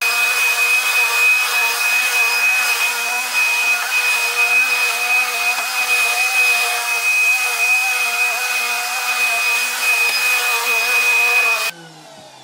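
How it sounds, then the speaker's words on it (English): A loud vacuum cleaner picking up white allergen powder roars steadily with a high whine, running without pause for nearly twelve seconds before shutting off abruptly, leaving a quiet room. "I'm actually gonna go ahead and vacuum over here"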